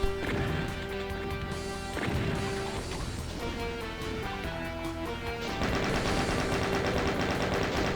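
Machine gun fire sprayed in a first-person shooter on map E4M3 of Enceladus, a dense continuous rattle heard over steady game music, loud and sustained throughout.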